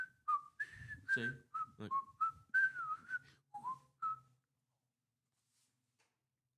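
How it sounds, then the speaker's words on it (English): A man whistles a short melodic tune on radio, a run of clear, close notes rising and falling over about four seconds, with a couple of soft spoken words mixed in, then silence. "first time I've actually done any extended whistling on the air in 50 years"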